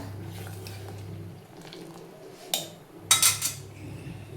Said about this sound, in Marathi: आता 1 चमच्याने चांगलं मिक्स करून घेऊया.